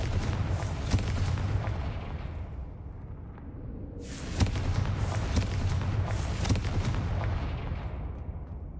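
Confringo blasting spell in Hogwarts Legacy going off in a run of sharp booming blasts, one near the start and a louder cluster around the middle, each with a rumbling, whooshing tail over a constant low background roar.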